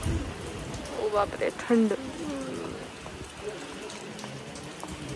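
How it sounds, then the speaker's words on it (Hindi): Heavy rain pours outside a mountain temple, a steady broadband hiss running through the whole scene while people talk and exclaim over it from shelter. "यहाँ बहुत तेज बारिश लगी हुई है इसलिए हम इसके अंदर बैठे हुए हैं"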